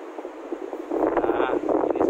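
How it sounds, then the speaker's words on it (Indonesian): Wind buffets the microphone inside a car with a low rumbling roar that swells midway, while a person talks over it. "Soalnya agak ada angin juga."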